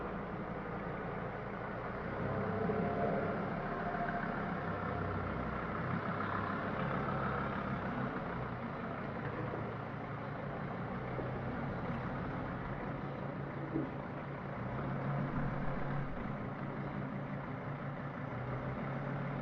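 A van with a freshly overhauled suspension is on a test drive, its engine giving a steady low rumble and drone inside the cabin that stays even in level throughout, with no talking.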